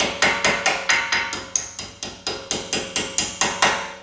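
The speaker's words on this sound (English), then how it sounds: "We're going to take our hammer and just gently tap it in." A hammer gently taps brake pad pins into a BMW brake caliper during a brake service, about fifteen evenly spaced sharp metallic knocks in a quick, steady rhythm, close and clear.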